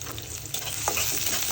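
Chopped onion and sliced green chilies sizzle in a little hot oil for fish-head taro-leaf curry, a steady close frying hiss with a sharp crackle as they hit the pan and faint stirring.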